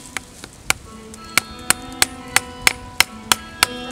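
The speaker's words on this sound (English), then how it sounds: "We're going to hammer this in." An axe is used to hammer a wooden spout into a birch tree, giving about a dozen sharp, close wooden knocks at a steady, slightly quickening pace, each ringing briefly.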